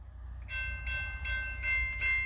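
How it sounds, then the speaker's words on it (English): A BNSF freight train leading autorack cars approaches a rail crossing in La Plata, Missouri, its horn sounding in several long blasts over a low rumbling rumble, growing steadily louder and closer. "Let's see the train"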